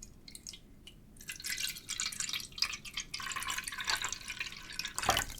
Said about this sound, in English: I'm going to pour my own water bottle in there.